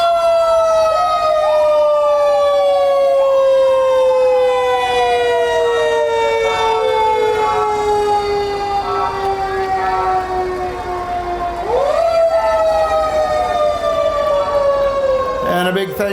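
Centerville Fire Department fire engine siren in a town canal days parade, loud and close, wailing up and down in long sweeping cycles, with a sharp re-rise near the end and a horn blast at the close.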